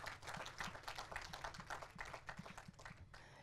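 Audience at a film festival conversation session clapping for a film, a brief burst of dense, quiet applause with rapid irregular claps throughout, no talking.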